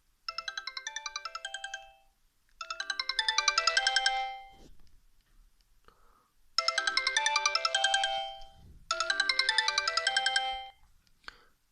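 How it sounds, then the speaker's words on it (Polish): The original ringtone of a Sony Ericsson C903 phone plays close and clear as a bright melodic chime in four phrases, separated by short silences. "naszych dźwięków, tutaj oryginalnych, jakie zostały wybrane przez producenta. Tutaj marki Sony Ericsson."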